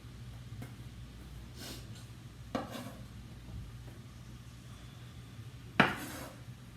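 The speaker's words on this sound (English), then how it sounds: "Put your vegetables in, because we're going to saute our vegetables." Mixed vegetables tipped into a pan for sautéing for a vegan pasta, heard as a couple of sharp pan and utensil clatters over a quiet kitchen background, with no sizzle evident.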